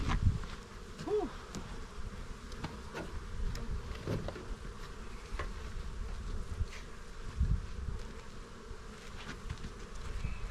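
Honey bees buzzing around hives in early spring as colonies bring in pollen, a dense continuous swarm hum close by with individual bees droning past the listener.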